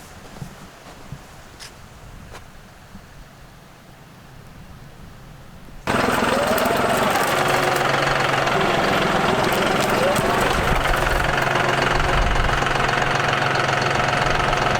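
Tractor engine on a ranch starting up loud and close after a quieter stretch, then a steady heavy diesel knock and rumble that runs continuously to the end.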